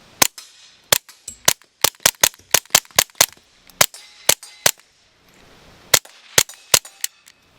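A Taurus TX22 Gen2 .22 pistol with a suppressor fires 36 grain Federal rounds, sharp cracking shots in quick irregular strings with short pauses between groups.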